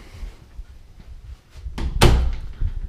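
An interior door in a house under inspection swings shut with a single solid thud, close and clear against a quiet room with faint shuffling before it.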